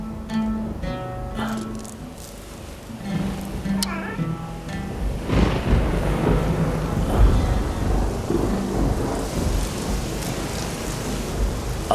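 Rain in a dramatized story of the prophet Joseph, a broad hiss building and persisting as a dense steady downpour, with rumbling underneath and soft music at the start.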